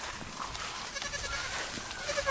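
Goats bleating on a farm, several short nasal calls scattered over a dense, noisy outdoor background, fairly close, without clear talking.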